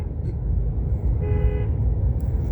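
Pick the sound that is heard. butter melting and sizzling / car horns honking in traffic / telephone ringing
car horns honking in traffic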